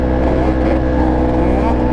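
An engine revs steadily and loudly at a Yamaha Banshee quad race as a sport bike joins in, a continuous close droning whine that holds its pitch throughout the short stretch.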